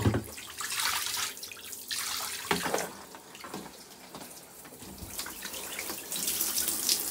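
Water slowly draining from a clogged bath shower, an uneven gurgling trickle with intermittent splashes and drips, close and fairly quiet.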